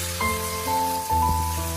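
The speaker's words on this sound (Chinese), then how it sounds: "加入1勺生抽，继续翻炒均匀，炒出酱香味" Pork ribs stir-fried in a wok with light soy sauce, giving a steady close sizzle with a few brief clatters of the spatula in between, no voices.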